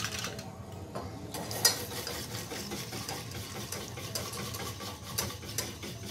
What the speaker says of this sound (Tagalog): haluin nyo lang siya hanggang magbuo